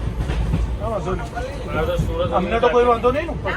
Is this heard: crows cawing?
no